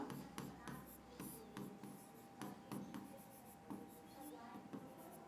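Marker or chalk writing on a board during a tenth-grade English lesson, a run of quick scratchy strokes in short bursts, close and fairly quiet, with faint room tone and occasional soft handling sounds.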